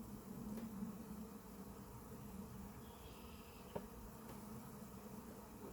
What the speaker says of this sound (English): given the amount of bees that are around here